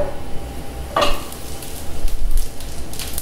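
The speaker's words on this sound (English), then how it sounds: "For that nice sizzle, get it swirling around." Garlic sizzling in butter in a hot pan for zucchini pasta, a steady frying hiss with a brief clatter partway through.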